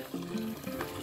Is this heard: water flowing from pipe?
yes